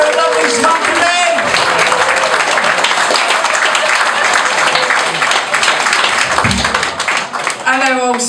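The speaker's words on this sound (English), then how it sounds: "start the clapping" Loud, dense audience applause and clapping fills a rugby football club room in Alcester as a comedian is welcomed to the stage, sustained throughout with voices briefly heard near the start and end.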